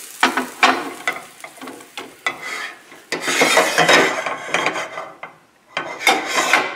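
Salmon filet sticks sizzle and scrape in a frying pan as a fork turns them, giving bursts of rasping, clattering contact against the pan over a steady frying hiss, with brief quieter gaps.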